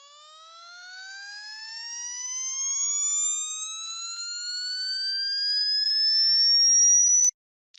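Simulated electric motor running with static eccentricity, a steady tonal whine whose harmonics climb smoothly in pitch as speed increases, loud and alone, cutting off sharply with a faint click after.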